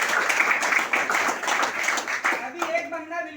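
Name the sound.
audience applause at a speech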